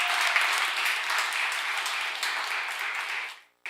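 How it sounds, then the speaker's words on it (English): Workshop audience at a live real estate event gives a sustained round of applause for a sponsor, a dense, bright wash of many hands clapping that holds steady for several seconds, then fades and cuts off abruptly. "Let's give Streamline and Dana a big round of applause."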